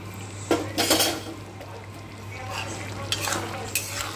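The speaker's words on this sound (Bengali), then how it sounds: "ভালো করে আর একটু নাড়াচাড়া করে নেব।" A spoon scrapes and clinks through long bean and potato curry sprinkled with garam masala in a pan, a few distinct stirring strokes over a low steady hum and faint sizzle.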